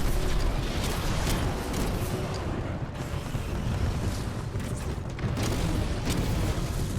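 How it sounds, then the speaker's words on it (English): A Titan in Titanfall 2 firing a barrage of missiles: a dense, continuous roar of launches and booming blasts with mechanical creaks, loud and sustained throughout, with a few sharper bursts. "You can see we're locking onto a bunch. And it just launches missiles everywhere."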